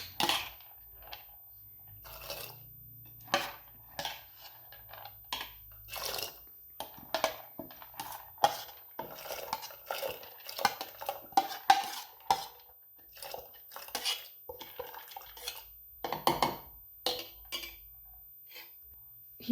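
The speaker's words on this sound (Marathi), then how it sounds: "आता यामध्ये आपल्याला ही धुवून घेतलेली डाळ घालायची आहे" Washed dal is tipped into a pressure cooker of hot water for puran: soft, scattered clinks and scrapes of a spoon against metal, with small pours and taps, quiet and close, with pauses between strokes.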